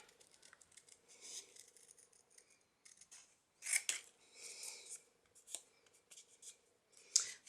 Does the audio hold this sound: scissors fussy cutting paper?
yes